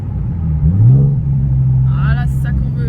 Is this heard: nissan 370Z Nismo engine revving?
yes